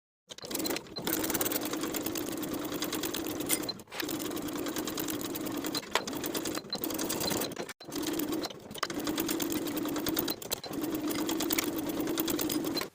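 A sewing machine edge stitches a pajama hem close to the inner fold, running in long steady bursts of rapid needle chatter with several brief pauses between them.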